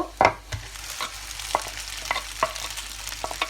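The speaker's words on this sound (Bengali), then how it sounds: "এর মধ্যে পটেটোটা ঢেলে দিব" Mashed potato tipped into a bowl of noodle-donut mixture with salt and worked in, giving a few soft wet plops followed by light scraping and stirring clicks close by, with no voices.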